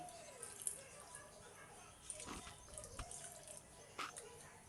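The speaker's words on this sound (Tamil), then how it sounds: "புளி தண்ணி கொஞ்சமாக ஊற்றிக்கிறேன்" Tamarind water being poured into a simmering egg curry in a pan: soft wet splashes and trickling, with a couple of louder pours partway through, close and fairly quiet.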